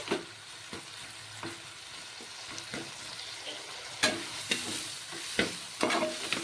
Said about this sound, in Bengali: সামান্য একটু জল দিয়ে আমি ভেজে নেব যাতে করে টমেটোটা বয়েল হয়ে যায়